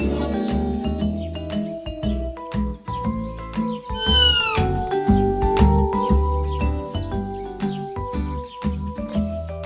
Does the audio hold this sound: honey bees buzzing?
no